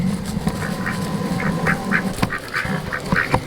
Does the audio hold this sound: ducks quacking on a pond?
yes